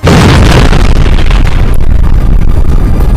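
Landmines laid in an area of Zaporizhzhia detonate in a loud, continuous barrage of booming blasts and bursts, dense and close, with no voices.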